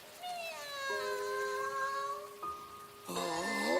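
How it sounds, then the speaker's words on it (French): A kitten mews in long, rising, drawn-out cries, close and fairly loud, over a soft background hiss. "pauvre petit chaton"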